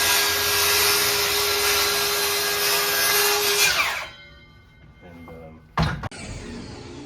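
Power tool cutting off framing lumber during a 1950s home rebuild, a loud steady whine and grind for about four seconds that stops abruptly, followed by a quieter stretch and a brief knock near the end.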